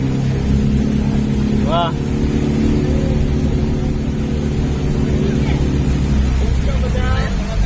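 A motorboat engine drones loud and steady throughout a backwater ride at Poovar in Kerala, with voices talking and exclaiming over it.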